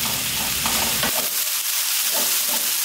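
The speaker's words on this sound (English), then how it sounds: "Keep cooking it with the pan uncovered, but make sure you give it a nice little stir" Okra frying in an uncovered pan over high heat hisses steadily while a utensil stirs it with a few scraping, shuffling strokes, close and clear.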